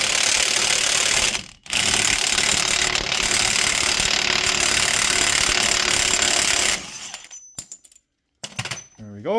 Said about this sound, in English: we're just going to impact this guy off here